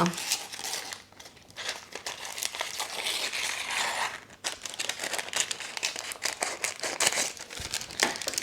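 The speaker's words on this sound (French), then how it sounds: "je vais simplement couper ici le papier dont je n'ai pas besoin, papier qui dépasse" Steady crinkling and rustling of stiff baking paper with snips and tearing while trimming the excess around a chocolate tart crust, close and busy throughout, with a voice talking over it.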